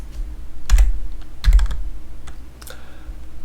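Computer keyboard typing during spreadsheet formula entry, with the Tab key pressed to complete a function: a few close, loud clusters of key clicks with pauses between, no talking.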